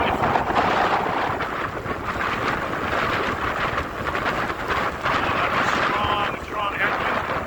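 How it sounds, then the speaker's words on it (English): Strong headwind roars across the microphone during a Toronto ebike ride in freezing rain, a loud, continuous buffeting rush with fluttering gusts that never lets up. "Strong headwind."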